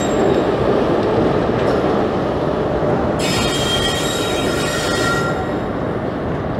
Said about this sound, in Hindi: छुक छुक छुक छुक छुक छुक रेलगाड़ी।